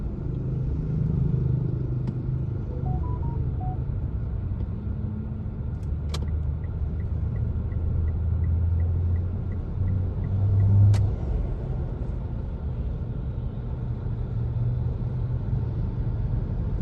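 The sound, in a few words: large trucks passing on a national road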